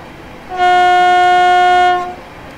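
In Train Simulator 2019, on a run from Wimbledon to West Croydon, a simulated train sounds one steady, loud, tonal horn blast lasting about a second and a half, clean and alone over quiet background.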